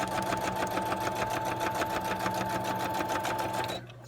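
A sewing machine stitches back over earlier stitches on a paper card, running in a fast, even mechanical rattle at close range before stopping abruptly near the end.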